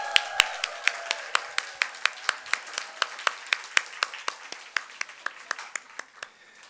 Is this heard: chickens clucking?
no